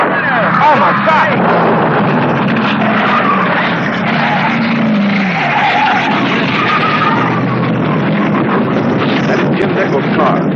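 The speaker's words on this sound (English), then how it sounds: "The front end of it has skidded all the way down to the runout area." A drag race car at the 1970 NHRA U.S. Nationals crashes and skids down the strip, a loud sustained scraping and tire squeal with engine roar that fades as it slides away.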